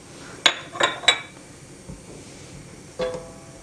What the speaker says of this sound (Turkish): Tereyağımı tencereme koyarak devam ediyorum